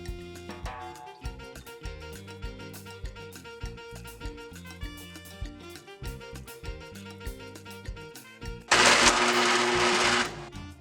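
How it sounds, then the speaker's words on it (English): Food processor chopping dates toward a thick paste, heard as a series of short rhythmic pulses and knocks, then a loud sustained grinding burst of about two seconds near the end. "I'm going to use a food processor to grind it into a thick paste"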